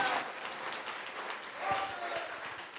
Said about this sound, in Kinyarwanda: donnez-lui les acclamations